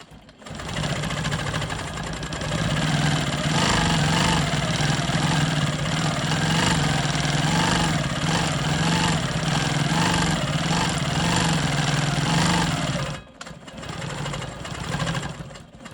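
A sewing machine stitches steadily while stitching in the ditch around a triangle in a rolling stone quilt block, a loud, continuous mechanical whir that runs for about thirteen seconds before briefly dropping and starting again.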